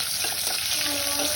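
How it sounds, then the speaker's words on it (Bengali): Green chilli, onion and bay leaf sizzle in hot oil. The frying is loud and close, a dense, continuous crackling hiss that fills the whole moment with no pauses. "আমি তেলে কাঁচামরিচ পেঁয়াজ তেজপাতা দিয়ে দিলাম।"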